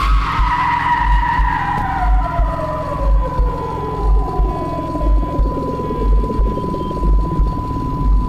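In a video game, a car's tires screech in a long, loud skid whose pitch slides steadily downward before it strikes the player, over a low rhythmic throb.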